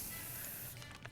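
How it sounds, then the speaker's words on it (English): Bug spray sprayed in the 60 Seconds! video game: one short, close hissing burst from an aerosol can, fading out in about a second, with no talk. "Alright, we got some bug spray."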